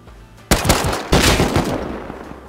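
Rapid video-game gunfire in a supermarket firefight, two loud bursts of automatic shots with the second longer and rattling on before fading, no talk over it.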